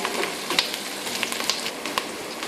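Chicken liver with garlic and pepper sizzles in a frying pan while being stirred, a steady close crackle broken by a few sharp scraping clicks.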